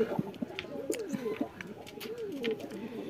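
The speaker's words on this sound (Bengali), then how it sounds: "কবুতরগুলো দেখেন সব খাবারের জন্য অপেক্ষা করতেছে" Several domestic pigeons waiting for feed coo close by in soft, repeated throaty calls, overlapping one another with a faint rustle underneath.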